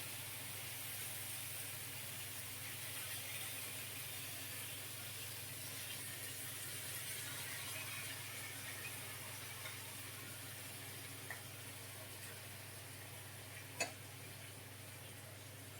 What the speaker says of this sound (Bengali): এইভাবে তোমরা ভাজিয়ে দেবে মাছগুলোকে